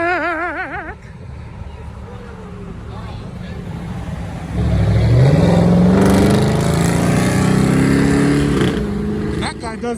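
Loud engine revving in a post-apocalypse driving game, a rising rev climbing then holding at a high, steady roar for several seconds, with speech over it.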